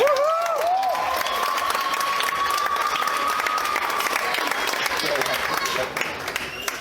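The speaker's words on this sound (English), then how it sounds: "Let's give a huge round of applause to Callum." An audience at a wedding speech breaks into sustained, dense applause with some cheering, steady throughout, while a thin whistling tone drifts over the clapping.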